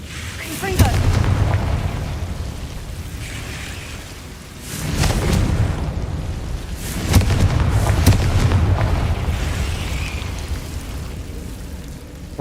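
A Confringo fire spell blasting in the Hogwarts Legacy video game, heard as several loud booming bursts with rumbling low end, spaced a few seconds apart, with a voice talking over the game audio.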